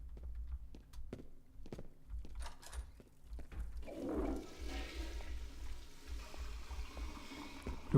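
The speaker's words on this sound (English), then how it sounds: "Maybe if I flush the toilet?" A toilet flushes in a Half-Life 2 mod, preceded by a few sharp clicks and footsteps, then a rushing swirl of water that starts midway and trails off, moderately quiet.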